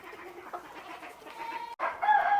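Backyard chickens cluck in a close, busy chorus, then a rooster crows loudly near the end, with no talking.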